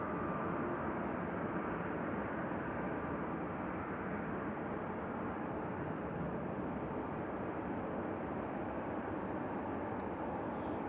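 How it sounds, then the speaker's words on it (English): A TUI Boeing Dreamliner departing, heard as a steady, continuous broadband jet engine roar that holds at an even level throughout, fairly distant, with no talk over it. "Got a TUI Dreamliner."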